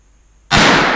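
A single sharp, loud shot from a Savage Arms Model 2 rifle in .243 firing old ammunition, bursting out of near silence and ringing on for the rest of the moment.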